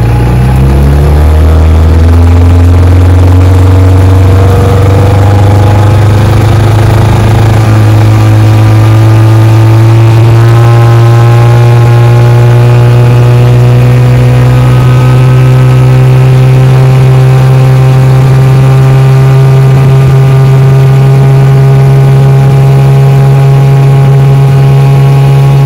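A 1959 Johnson 5.5 HP outboard motor runs on a bayou, its loud, close engine drone rising in pitch as it revs up and then holding a steady high whine for the rest of the run, with no talking.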